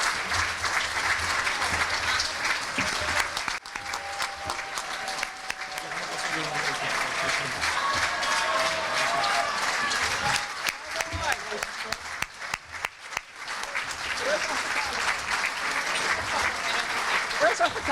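A crowd at a chamber of commerce awards ceremony claps steadily as an honoree comes up to accept an award. The dense applause carries on for the full stretch, with scattered voices and cheers mixed in.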